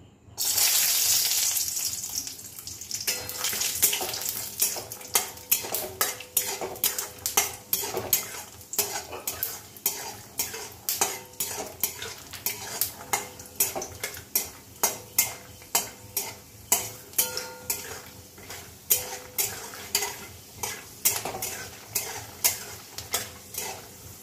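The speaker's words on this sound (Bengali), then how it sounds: "দেখো তেল গরম হয়ে গেছে, আমি কিছুটা কাঁচা বাদাম দিয়ে দেব, দিয়ে ভেজে নেব।" Raw peanuts fry in hot oil in a pan for a red amaranth greens stir-fry, with a bright steady sizzle and a long run of sharp rhythmic scrapes and clinks from a stirring utensil, close and alone.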